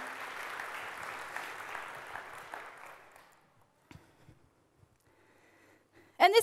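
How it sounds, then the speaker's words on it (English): A church congregation applauds Lizzie at a Mother's Day morning service, with a broad wash of clapping that holds steady for about three seconds, then dies away to near silence before a brief loud noise at the end. "give her a round of applause"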